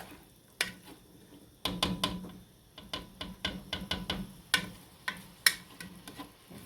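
Potato soup ingredients starting to cook in a pot: soft sizzling under irregular clicks and clinks of a utensil stirring against the pot, close and fairly quiet.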